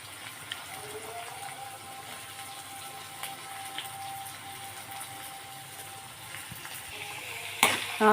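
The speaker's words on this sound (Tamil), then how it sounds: "வெங்காயத்தை போட்டு நல்லா பொடியாக அரிஞ்சு நல்லா வதக்கணும்" Chopped onions sauté in a pan with a faint, steady sizzle, and a louder clatter comes near the end.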